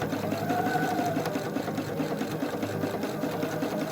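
A sewing machine runs steadily, stitching stretchy joined fabric for small doll leggings, with a close, even mechanical whirr and rapid needle clatter throughout and no talking.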